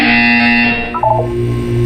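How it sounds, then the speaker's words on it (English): A loud, harsh electronic buzzer from the video game Portal 2 sounds as a single sustained blare that drops in pitch and gives way to a low hum, with no voices over it. "When you hear the buzzer, look down at the floor."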